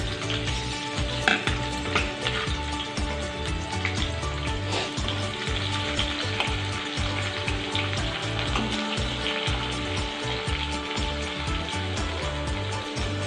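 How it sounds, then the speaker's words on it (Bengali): Chopped onions fry in hot oil with whole garam masala of cardamom, cloves and cinnamon for a cauliflower dish, a close continuous sizzle with scraping stir strokes and no talk. "এতে এবার কেটে রাখা পেঁয়াজগুলো দিয়ে দিলাম।"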